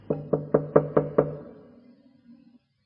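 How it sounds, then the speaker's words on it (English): Six quick, evenly spaced knocks land on a door with a soft, muffled tone and a short fading tail, followed by silence. "At Stella Vixen's door, he stopped and knocked quietly."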